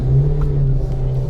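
A Peugeot car engine runs close by with a steady low hum and a faint rev, loud and continuous with no talk over it.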